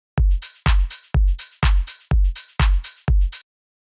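Simple Dirtybird-style house drum loop: seven punchy, booming kicks with bright hat and clap hits on top, in a steady four-on-the-floor groove, loud and alone.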